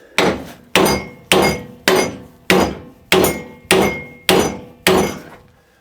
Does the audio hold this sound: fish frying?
no